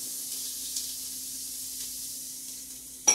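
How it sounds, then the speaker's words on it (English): A steady, soft sizzle of vegetables frying in oil for ground beef chili, a continuous hiss with no talk, ending in a brief clatter. "It's sizzling already."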